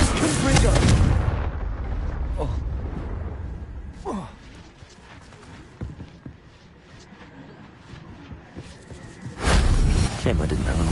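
Confringo fire spells in Hogwarts Legacy on PS5 land as heavy booming blasts, one at the start and another near the end, with crackling rumble and smaller impacts between, while a voice talks over the action.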